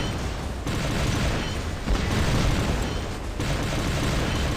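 An Ophion robot explodes in the War Robots game, a loud, dense, sustained roar of blast noise rumbling steadily for several seconds with slight swells.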